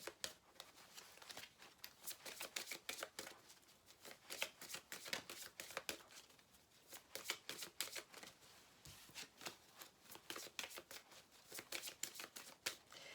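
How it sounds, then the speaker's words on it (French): Tarot cards being shuffled by hand before one is drawn, a close, quiet run of crisp riffling flicks repeating steadily throughout, with no talking. "maintenant on va prendre une carte pour le sentimental"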